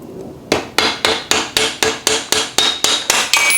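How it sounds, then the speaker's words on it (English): A rubber mallet taps a Yamaha R1 motorcycle's rear axle into place, about a dozen sharp, evenly spaced blows ringing close and loud with no talking. "You can get your rubber mallet."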